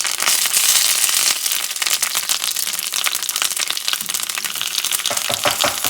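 Peppers hit a hot pan and burst into a loud, dense sizzle and crackle that carries on without letup, with sharper pops and spatters joining near the end; nobody speaks.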